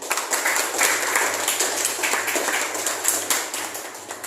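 A group claps together continuously for several seconds, a dense, even patter of applause close by.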